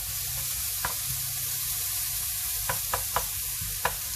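Mushrooms, red onions and peppers fry in a pan for a Pad Thai, giving a steady close sizzle with a few sharp stirring clinks and scrapes, no talking.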